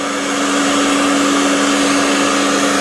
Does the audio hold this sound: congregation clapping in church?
no